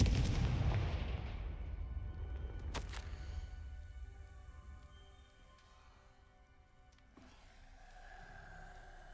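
A Confringo blasting spell from the Hogwarts Legacy video game explodes with a loud booming burst near the start, followed by a sharp crack and a fading rumble under game music.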